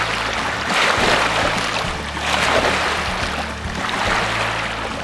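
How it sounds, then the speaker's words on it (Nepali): Afternoon waves on Rara Lake, a steady wash of lapping water with a low continuous rumble, surging gently in a few swells, heard alone. "बिहान निकै शान्त र सौम्य यस रारातालमा दिउँसो र साँझको समयमा भने यसरी छाल आउने गर्दछ।"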